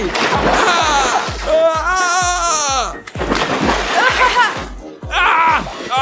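Loud, continuous splashing and sloshing of water in a small swimming pool, with children's voices shouting and talking over it nearly the whole time.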